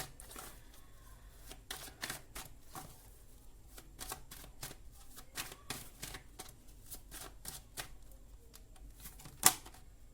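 Tarot cards are shuffled and drawn in a long run of crisp flicks and riffles, some closer together and some spaced apart, with one sharp louder snap near the end and no talking.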